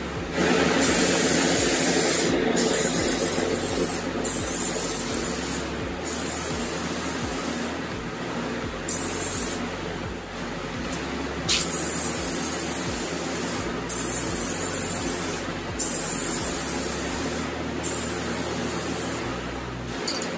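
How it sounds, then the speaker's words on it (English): Bursts of aerosol spray coating a car headlight hiss in short repeated passes with brief pauses between them, fairly close and steady. "I'll spray it on, and then we'll check it by touching our paper"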